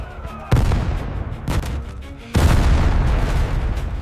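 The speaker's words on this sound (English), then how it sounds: "The bombardment is hitting everything now." Artillery bombardment in a World War I trench setting: heavy booming blasts land in sequence over a continuous roaring rumble, loud and close, each impact a sudden surge with no talking.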